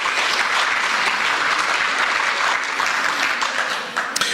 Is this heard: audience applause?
yes